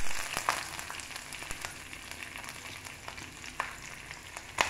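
Green chillies, curry leaves and onions frying in hot oil with cumin for an eggplant and chickpea masala curry, giving a steady close sizzle with a few sharp pops and crackles throughout.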